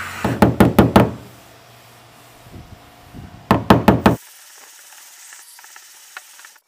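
A high spot on a car body panel being prepped with body filler is tapped down with sharp metallic knocks, a quick burst of about five near hits, a pause, then another burst of four.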